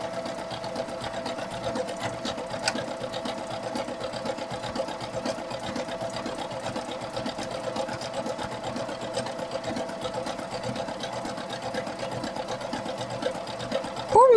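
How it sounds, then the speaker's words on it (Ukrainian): A sewing machine runs steadily, stitching elastic along the edge of women's underwear, with a continuous mechanical whir and rapid needle rhythm throughout, close and even, ending in a brief louder burst. "І потихеньку починаємо по краю пришивати резиночку."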